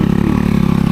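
A Motorstar Easy Ride 150 and an ADB 150 motorcycle accelerate on a road near a campsite in Puerto Princesa, Palawan, a steady loud mid-pitched engine drone with a fast pulsing rhythm and no talk.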